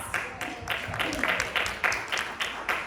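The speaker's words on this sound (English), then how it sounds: "So I want everyone to give each other and ourselves a big round of applause." A small room of people claps at a health justice meeting, fairly faint and uneven, with a few distinct hand claps standing out from the scattered applause.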